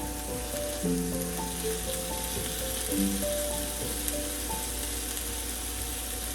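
Green chillies and tomato sizzle in oil in a pan as a tempering for Punjabi-style arbi sabzi. The crackle is steady and close, with faint sustained musical tones underneath.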